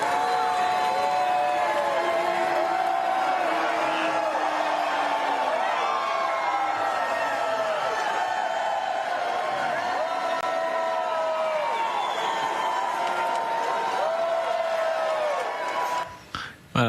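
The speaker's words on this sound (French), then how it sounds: "Sur la fin, il est aussi applaudi par ses partisans. Mais enfin, c'est quand même les hués qui dominent." A theatre audience at a Les Misérables performance booing Trump, with a sustained loud crowd roar of jeers and scattered cheering and applause throughout, ending abruptly.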